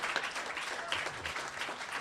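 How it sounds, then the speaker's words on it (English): Sustained applause from an audience at a sexual health reception, a dense, even wash of many hands clapping at moderate level, with a few faint voices mixed in. "yes, you can be clapping for that one"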